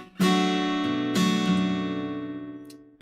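Two bright strummed chords from the AGML 2 virtual guitar plugin ring out one after another, the second left to sustain and slowly fade, clean and close.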